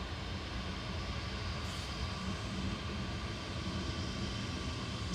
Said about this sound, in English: It's so loud, that Ryanair.